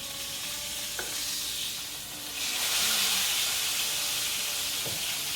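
Country fried steak frying in hot oil, a steady close sizzle that swells louder halfway through, with a couple of sharp clinks from a utensil.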